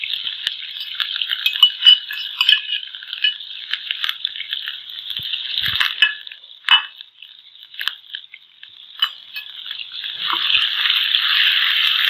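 Chicken coated in flour, chili and salt frying over low heat in a pan, a close continuous crackle of bubbling oil with scattered pops and rattles, swelling louder toward the end, no talking.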